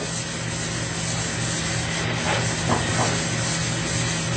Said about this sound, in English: And the Scotch-Brite is taking the stains right off.